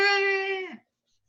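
A human voice imitates a cat, a single drawn-out meow-like wail that holds steady and then drops off abruptly, close and clear.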